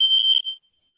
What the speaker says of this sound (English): I hear alarms and I run out the building.